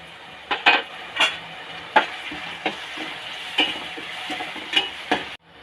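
Onions sizzle as they sauté in a pan while a utensil scrapes and taps against the metal in irregular strokes, close up, with no talking.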